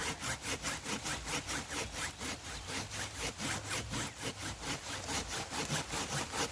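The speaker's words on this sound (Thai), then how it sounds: "เราค่อยๆเลื่อยเขา ให้หลุดออกจากกันค่ะ" A hand saw rasps back and forth through a storm-damaged mango tree branch in a fast, steady rhythm of strokes, close up, with no talking.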